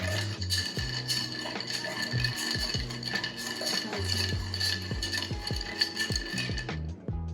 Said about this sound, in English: And you're just going to want to grab a stir stick.